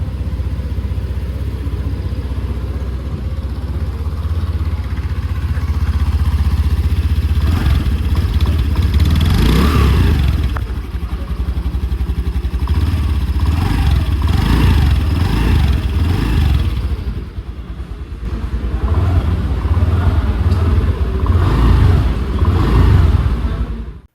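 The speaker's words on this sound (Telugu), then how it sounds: "సో ఒకసారి ఎగ్జాస్ట్ నోట్ అయితే వినిపిస్తాను" A 2014 Honda Dio 125 scooter engine running near, a steady idle with a couple of revs rising and falling, loud and alone without speech.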